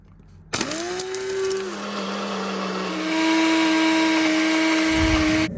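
An electric blender spinning up and whirring steadily while blending spices for a spicy peanut butter, starting abruptly with a loud motor whine that shifts pitch as the load changes, then cutting off near the end.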